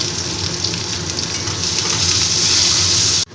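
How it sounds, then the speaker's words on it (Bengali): Potatoes frying in oil with turmeric, a loud close continuous sizzle and bubbling hiss that cuts off abruptly at the end. "তেলে আবার এই আলুগুলোকে ভেজে নিয়েছি হলুদ দিয়ে আলুগুলোকেও আমি ভেজে নিই"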